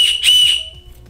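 A small plastic keychain safety whistle gives one shrill, loud blast of about half a second, close up, then stops, leaving a faint tail and quiet room noise.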